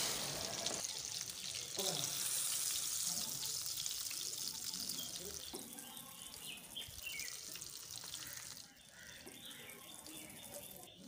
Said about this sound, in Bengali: সো আমাদের ফ্রাই করা প্রায় কমপ্লিট হয়ে গেছে।